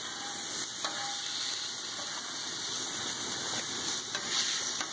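Steak meat sizzles on a Blackstone griddle, a close, steady frying hiss that holds evenly throughout with no talking.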